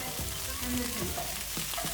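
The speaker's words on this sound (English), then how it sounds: "We have the onions, the carrots, the ginger, and the coconut oil in here, and we're gonna let this saute for a little bit" Onions, carrots and ginger sauté in coconut oil in a pan, making a constant nearby sizzle with a few light scrapes and knocks as the vegetables shift.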